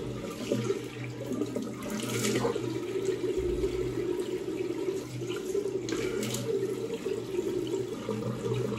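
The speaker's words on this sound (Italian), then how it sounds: "Risciacquiamo il viso." Tap water runs into a sink while someone rinses their face after shaving, a continuous splashing flow with a few louder splashes along the way.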